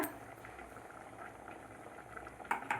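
A pot of chana dal and wheat rava payasam simmers at a low bubbling boil, a soft continuous burble close by with a brief louder clatter near the end.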